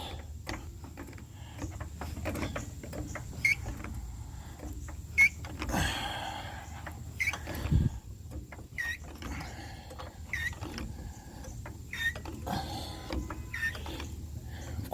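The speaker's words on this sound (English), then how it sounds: "Alright, let's get her jacked up." A car jack lifts a 1951 Chevy, giving a steady run of close mechanical ratcheting clicks with occasional louder knocks over a low background rumble.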